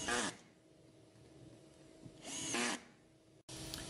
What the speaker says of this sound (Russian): В заготовке из полиэтилена сверлится сетка монтажных отверстий.